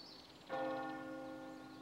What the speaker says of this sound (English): For centuries, the church bells here have rung to call the faithful to worship.